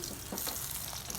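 Green chilies frying in hot oil in a pan for a village-style thecha, giving a dense, close crackling sizzle with sharp pops and spits throughout.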